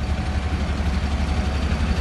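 Bulldozers and other heavy machinery idle at the site of an overturned KAMAZ truck on a bypass road, a loud, continuous low engine rumble with no pauses.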